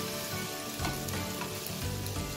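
Carrot and cabbage momo filling sautéed in a pan gives a continuous loud sizzle with scraping stirring strokes, close and without talk.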